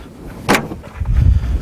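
The rear cargo door of a 2012 Dacia Dokker van opens with a sharp latch clack, followed by a low, heavy rumble as the door swings open close by.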